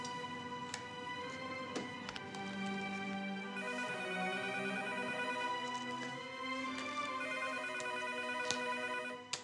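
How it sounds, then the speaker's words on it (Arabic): A telephone ringtone plays continuously as a steady electronic melodic tone in an indoor setting, loud and alone with no talking. "مدام رشا على التليفون"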